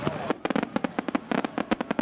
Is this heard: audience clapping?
no